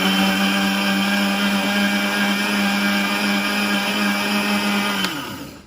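A blender blade mixes sweet potato with juice, giving a loud, steady, high-pitched motor whine close by. After about five seconds it cuts off and spins down.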